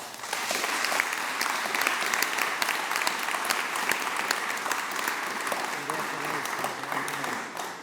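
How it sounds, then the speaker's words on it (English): Audience at a Livonia Hall of Fame induction ceremony applauding the Friends of the Wilson Barn, a sustained crowd of hands clapping steadily and moderately loud, with scattered voices beneath it. "Please give them a round of applause"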